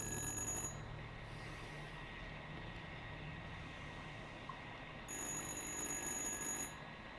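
A mysterious phone rings in the horror game Little Hope: two bursts of shrill, buzzing telephone bell separated by several seconds of low room ambience.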